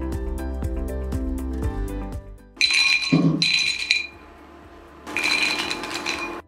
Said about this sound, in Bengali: এখন ছাঁকনির সাহায্যে তেল নিংড়িয়ে নিমকি একটি পাত্রে তুলে নেব।